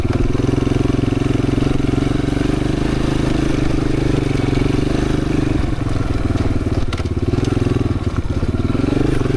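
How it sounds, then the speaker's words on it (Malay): An ordinary street motorcycle, not an off-road bike, ridden slowly over rough ground through a city, its engine a loud steady drone with wind rumble throughout and a slight change in tone near the end. "Pasal kita bawa apa, Fuad pakai motor biasa je bukan motor off-road."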